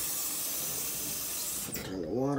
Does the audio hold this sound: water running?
yes